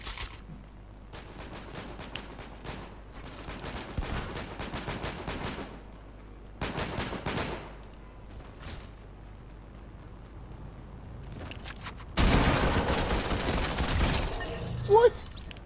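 Rifle fire in a Fortnite match comes in several separate bursts of rapid shots, loud and close, with a heavier stretch of sustained firing near the end.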